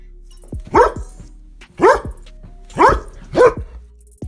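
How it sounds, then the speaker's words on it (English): A dog barks four times in a steady, evenly spaced series, loud and close, with short quiet gaps between each bark. "What sound does a dog make?"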